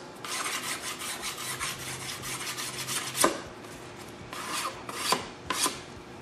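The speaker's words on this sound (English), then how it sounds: "take your sanding stick, clean up your edges" Quick scraping strokes of a sanding stick smoothing fiberglass edges, steady and close, with a few sharper scuffs near the end.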